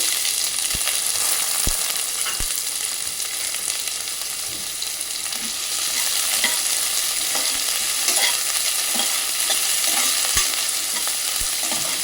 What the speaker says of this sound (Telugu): ఆనియన్ సాఫ్ట్ అయ్యే వరకు ఫ్రై చేసుకోండి